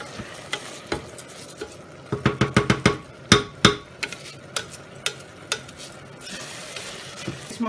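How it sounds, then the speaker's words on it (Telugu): Soaked rice is stirred through hot oil in a pan, with a low sizzle beneath a run of sharp, rhythmic scrapes and clinks of a spoon against the metal, coming in quick bursts and then more spaced strokes. "ఇప్పుడు ఇందులో మనం నానబెట్టుకున్న రైస్ యాడ్ చేసుకుంటున్నాము. ఇది కొంచెం ఆయిల్ అంతా రైస్కి కోట్ అయ్యేలాగా ఒకసారి మనం బాగా కలుపుకోవాలి"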